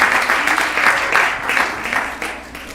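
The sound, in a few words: audience applause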